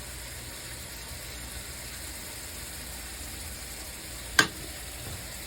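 Rehydrated minced onions sizzle on a hot griddle with an even, continuous hiss and one sharp click partway through; no one speaks.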